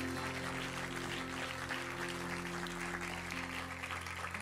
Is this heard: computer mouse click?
no